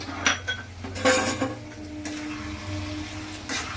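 A pan of hilsa fish head curry with taro greens is stirred and covered: a metal spoon scrapes and clinks against the pan in a few sharp knocks, with a low sizzle underneath.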